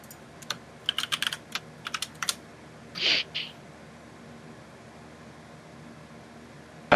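Short bursts of computer keyboard typing, a few scattered clicks close by, then a brief hissing swish and a long quiet stretch, ending in a sharp knock.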